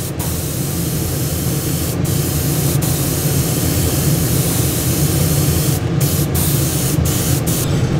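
A Procon Boy LWA trigger-type double-action 0.5mm airbrush spraying at reduced output: a continuous, close, even hiss of air that holds steady without a break.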